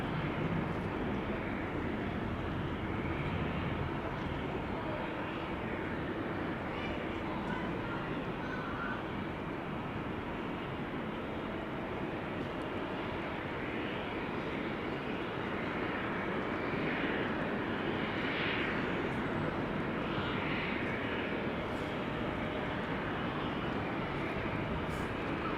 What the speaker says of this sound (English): This is a Transavia 737-800 to Ibiza